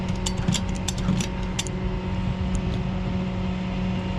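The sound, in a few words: ratchet strap being tightened to tie down a car wheel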